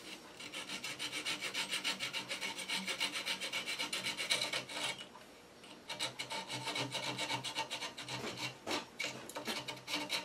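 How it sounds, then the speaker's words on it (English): Rapid back-and-forth strokes of a fine flush cut saw cutting wood, close and rhythmic, with a short pause midway before sawing resumes. "finish this off with a little flush cut saw"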